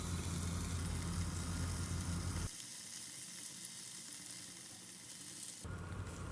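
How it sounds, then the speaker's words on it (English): Paneer cubes sauté in a pan over medium heat, a continuous dense sizzle that drops sharply quieter midway and then swells back near the end, with no talk. "On medium flame, we will saute them for just 1 minute until they are well browned from both the sides"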